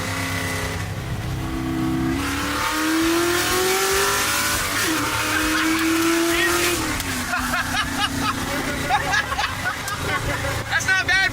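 An American muscle car engine revs and accelerates loudly, its pitch rising and falling in sweeps, with people talking excitedly over the roar inside the car.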